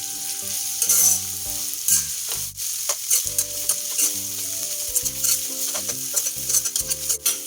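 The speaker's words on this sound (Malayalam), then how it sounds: "സബോള അപ്പോൾ അത്യാവശ്യം ഒന്ന് ഫ്രൈ ആയിട്ട് വന്നുകൊണ്ടിരിക്കുകയാണ്" Sliced onions frying in oil for chana masala, with a loud, close sizzle and repeated scraping strokes as a spatula stirs them around the pan.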